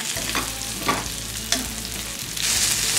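Pork chops pan roasting in oil, a steady close sizzle with a few louder spatters and stirring bursts, growing slightly brighter near the end, no voices.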